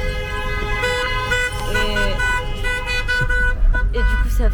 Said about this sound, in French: ça a fait klaxonner tout le monde